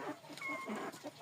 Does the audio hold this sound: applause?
no